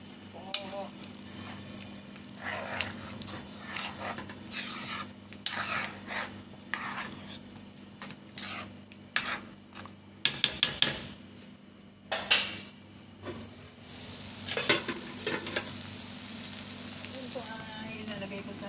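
Chicken masala sizzling in a pan while a utensil stirs and scrapes, with sharp metallic clinks of pots and cutlery over a constant low frying hiss, moderately close and fairly quiet.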